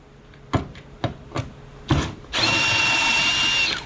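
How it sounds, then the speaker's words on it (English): Four short knocks or taps, then a power drill driving screws whirs loudly and steadily for over a second, close by, while reversing a GE washer's door. "of course I'm going to use a drill just to try to keep my hand out of the way"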